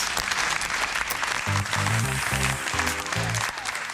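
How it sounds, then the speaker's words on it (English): A burst of studio applause on a TV talk show, steady clapping from a small crowd that swells briefly and carries on to the end. "And speaking of fake applause, here comes some from us."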